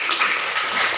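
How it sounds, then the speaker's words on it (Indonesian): A class audience claps briefly for a student group after their presentation, a short dense burst of applause at moderate loudness. "tepuk tangan dulu"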